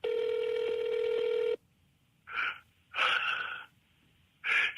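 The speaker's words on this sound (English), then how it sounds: "you call up a phone number and there's like pre-recorded messages" A telephone dials a number for pre-recorded messages, giving a steady run of dialing tones for about a second and a half, then several loud breathy gasps.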